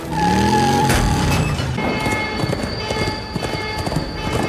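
A subway train rolls along the track, a loud, continuous metallic rumble with squealing tones and rattling wheels throughout.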